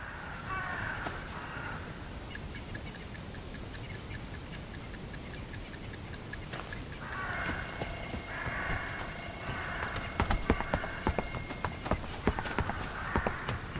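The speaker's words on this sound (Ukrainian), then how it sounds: "Беремо будильник та знову закидуємо його у вікно." An alarm clock in the Hello Neighbor 2 video game: steady ticking at first, then a loud, shrill electronic ringing that lasts several seconds over quiet background ambience before stopping.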